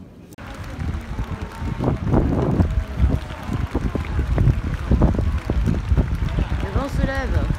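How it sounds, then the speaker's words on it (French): Gusty wind buffets the microphone in a steady rumbling roar, with voices speaking and calling out underneath. "Le vent se lève."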